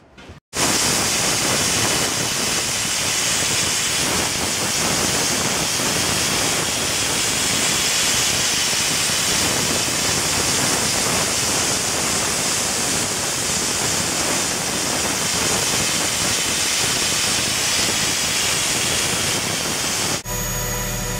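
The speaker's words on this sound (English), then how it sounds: "So here we are into the removal of the paint off the aluminum hood." Abrasive bio blasting strips paint from the aluminum hood of a 1950s Ferrari, a loud, steady hiss of rushing air and media that runs unbroken for about twenty seconds before cutting off.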